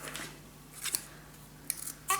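Scissors cut paper for a scrapbook mini album in three quiet, close snips spaced apart, each a short crisp crunch of blades, with no speech.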